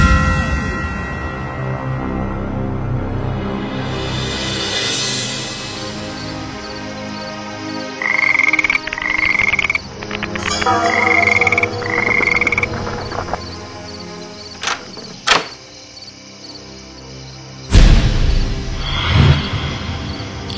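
A cartoon frog croaks in a Bengali animated folk tale, its loud, evenly spaced croaks standing alone over soft background music, with a few sharp swooshes and thumps nearby.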